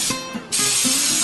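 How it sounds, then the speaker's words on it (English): Non-stick cooking spray hisses from a can onto a pan in a short burst, then a longer steady spray, close and loud. "Putting some non-stick cooking spray on there because you don't like sticky scrambled eggs."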